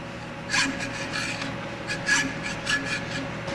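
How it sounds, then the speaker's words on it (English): Rhythmic rasping strokes of a hand saw cutting through wood, repeated back and forth at a steady pace, close by. "why don't you show me how you've been sawing?"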